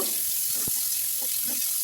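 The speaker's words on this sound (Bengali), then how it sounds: "জিরে ফোড়ন দিয়ে পেঁয়াজ লঙ্কা দিয়ে লাল লাল করে ভেজে নেব।" Onions and chillies fry with a cumin tempering in leftover fish-frying oil for a rohu and cabbage curry, giving a steady, soft sizzle with a few faint stirring taps and no voices.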